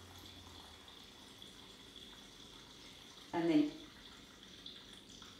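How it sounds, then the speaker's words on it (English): Water pours briefly into a jar of soaking grains, a short loud gush lasting under a second against a quiet kitchen background, with a voice speaking just before. "all I need to do is complete this by adding my water and giving it a good stir"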